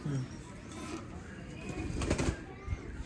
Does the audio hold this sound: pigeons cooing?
yes